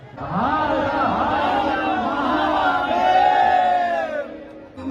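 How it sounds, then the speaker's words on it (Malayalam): A huge crowd gathered for an aarti ceremony cheers and shouts continuously, a loud, dense roar of many voices with rising whoops close by. "വൻ ആൾക്കൂട്ടാണ് ആരതി കാണാൻ വേണ്ടി."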